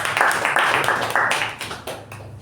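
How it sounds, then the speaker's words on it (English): A roomful of people at a Toastmasters-style club meeting clap together in a brief burst of applause that thins out and fades, with a few scattered claps at the end. "Round of applause."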